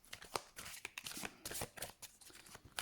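Oracle cards are shuffled by hand up close, a quiet run of quick papery riffles and rustles in an uneven rhythm.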